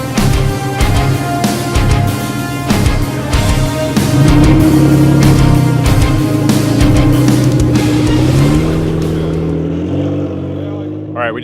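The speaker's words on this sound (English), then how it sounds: "The Jeep is unloaded, getting it warmed up now." A Jeep desert race vehicle at the Mint 400 in Las Vegas, Nevada, idling and warming up with a loud, rough, steady engine rumble and a few blips of revving, tapering off near the end.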